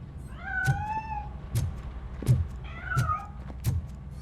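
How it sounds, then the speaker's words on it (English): Several short, bright meows from a cat in the video game RoboCop: Rogue City, with rising and falling pitch, spaced about a second apart over a low background hum, with soft thumps under each call. "That cat must be hiding inside."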